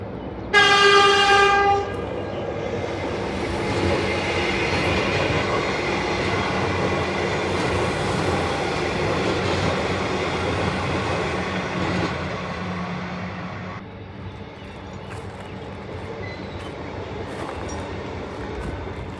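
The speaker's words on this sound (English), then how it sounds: "And there's a train coming on our left as well." A train passes near a tram stop, opening with a short horn blast, then a long, steady rolling rumble of wheels and cars that eases off toward the end.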